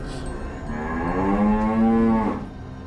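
Cattle in a crowded herd give one long, loud, drawn-out moo that swells and falls away, with a steady low background rumble and no voices.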